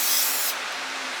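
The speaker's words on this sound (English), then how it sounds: "I'm gonna spray this on here." Cleaner sprayed from a trigger bottle onto the grimy underside of a Camaro SS, a close, loud hiss lasting about half a second, followed by quiet.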